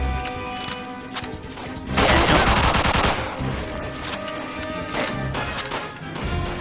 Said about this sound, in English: Oh, just got bigger machine gun.